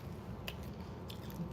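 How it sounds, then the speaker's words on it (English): A crunchy, salty snack bitten with a sharp crack, then chewed in soft, close mouth sounds over a low background hum. "I feel like that was a hard crunch"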